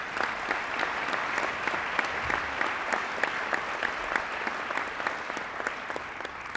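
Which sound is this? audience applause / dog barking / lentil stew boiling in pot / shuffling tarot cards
audience applause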